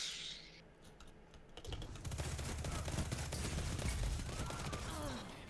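Recluse submachine gun sprays rapid automatic fire in a multiplayer video game match, a dense, fast burst of shots starting about two seconds in and running steadily to the end, with faint clicks before it.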